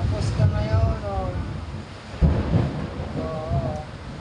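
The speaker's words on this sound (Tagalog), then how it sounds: "Pag kumukulog ng malakas." A low rumble of thunder rolls beneath wind and rain noise, while a person's voice speaks intermittently over it.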